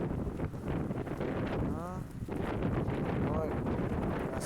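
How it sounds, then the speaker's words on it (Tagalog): Strong wind roars and buffets the microphone continuously at a hilltop in Cobh, Ireland, with faint voices mixed into the gusts. "Yan, ang hangin."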